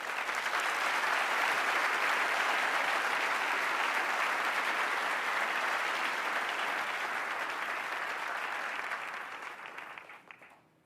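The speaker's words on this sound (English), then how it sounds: "Please give Ian and Doutzen and all the partners a round of applause" An audience at the CGI 2016 Annual Meeting claps for Ian, Doutzen and their partners in a dense, loud ovation that holds steady for about nine seconds before thinning to a few scattered claps.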